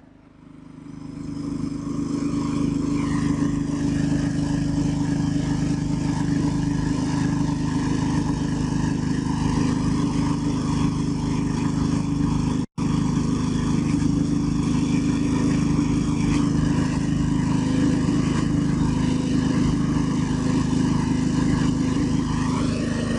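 A 5.5 HP petrol-engine multipurpose chopper machine for chopping livestock feed runs with a steady, loud, continuous engine drone after a brief rise at the start, with one abrupt cut midway.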